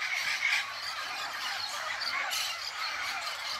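A flock of parrots squawking in mango trees near a river at sunrise, a dense continuous chorus of harsh shrill calls at moderate distance, with no voices over it.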